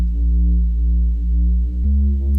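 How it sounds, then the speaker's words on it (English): A gritty synth bass from the Bassmaster VST plugin plays alone in a trap soul beat, with loud sustained low notes and a pitch change near the end. "But essentially, that bass by itself sounds like this."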